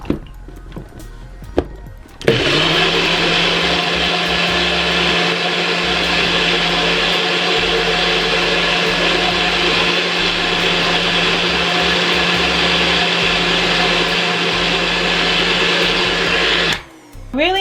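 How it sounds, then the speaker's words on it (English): A blender runs loudly and steadily for about fifteen seconds blending an apple and oat smoothie, a dense whirring roar, with brief handling clatter before it starts and as it stops. "now we're going to pop this back onto our blender and blend it down with the oats"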